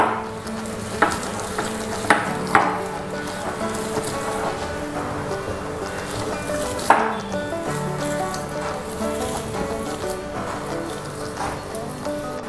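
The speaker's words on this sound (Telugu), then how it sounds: "మనం బాగా మ్యాష్ చేసి పెట్టుకున్న పొటాటోస్ లోకి ఈ మసాలాస్ అన్ని కూడా బాగా పట్టేలాగా బాగా మిక్స్ చేసుకోవాలి" Mashed potatoes being stirred and mixed with masala spices for pinwheel samosa filling, a steady soft squishing and scraping with occasional sharper clinks of the utensil against the bowl.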